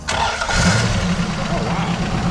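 A rare 1948 Ford flathead V8 fitted with overhead cam heads and three carburetors cranks and fires, catching straight into a loud, close, throaty rumble.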